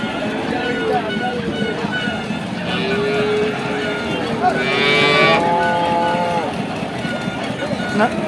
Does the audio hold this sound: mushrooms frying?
no